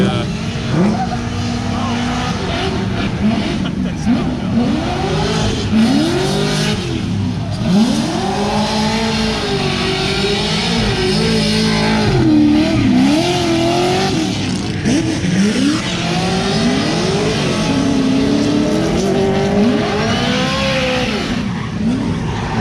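Pro race cars in Group A qualifying at a Klutch Kickers round rev and accelerate continuously, engines rising and falling as they pass with hints of tire squeal, while people talk nearby.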